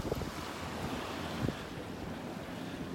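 Gentle ocean waves wash onto a beach in North Naples, Florida, as a soft, continuous surf hiss mixed with wind rumble against the microphone, with no one talking.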